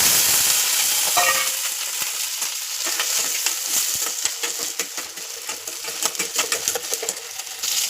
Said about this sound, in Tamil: இப்போ எண்ணெய் நல்லா காஞ்சிருச்சு. இப்போ வெங்காயத்தை போட்டுக்கலாம்.